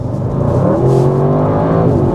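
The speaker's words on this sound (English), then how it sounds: "Oh, there's so much hate coming out of that exhaust." A 2025 Audi RS6 GT accelerating hard, its exhaust a loud, continuous close-up roar whose pitch climbs steadily, with no talking over it.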